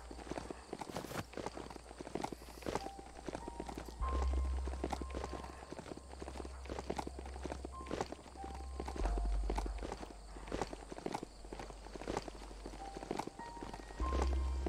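Hooves of a horse mount in the video game Biomutant clip-clop in a steady, repeated rhythm with light game ambience behind them.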